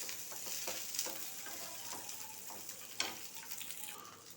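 Onion and garlic frying in a pan for fish curry, a faint steady sizzle with occasional soft clicks and scrapes of stirring.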